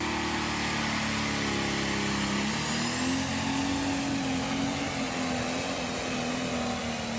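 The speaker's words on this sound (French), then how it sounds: "ou le moteur diesel?" Diesel car engine revving, a loud, rough and steady drone whose pitch rises about halfway through and then holds, close by with no voices.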